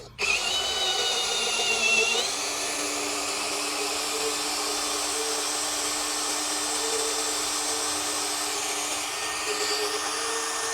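A DongCheng DCPL165 cordless impact driver on speed 1 whirs at steady high speed after a brief sharp start, a continuous loud motor whine biting into hard wood with slight pitch shifts.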